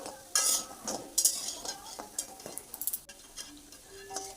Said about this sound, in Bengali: এবারে বাকি যে ব্যাটারটা ছিল, ডাল বাটা, সেটাও দিয়ে দিলাম।